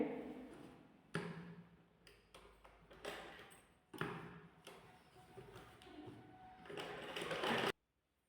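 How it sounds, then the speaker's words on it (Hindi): A sewing machine stitches elastic onto ladies' trousers, running in several close bursts of rapid mechanical ticking that stop and restart, with a longer run before it cuts off abruptly. "ये देखिए इलास्टिक को ऊपर से हम एक सिलाई लगाएंगे।"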